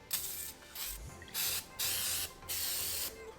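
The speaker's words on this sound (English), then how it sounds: "So we're going to try and go ahead and spray it again and let it sit for another 10 minutes." Engine degreaser, a cheap Supertech brand, sprayed onto a grimy car engine in a DIY garage, heard as four separate hissing bursts of spray, each about a third to half a second long, with short quiet gaps between them.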